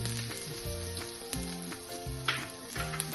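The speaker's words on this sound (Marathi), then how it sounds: "त्याला आता छान परतत आलाय, त्याचा वास पण येतोय" Sesame seeds, turmeric, ginger-chili paste, nigella seeds, red chili powder, garam masala and carom seeds frying in hot oil for matar puri, a steady close sizzle with a few light stirring scrapes, no voices.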